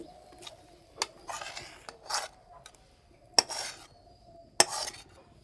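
A pot of thickened rice-flour filling for puli pitha lifted off the stove, with several sharp metallic clinks and scraping rubs of metal against metal, close and moderately loud, spaced across a few seconds with no talk.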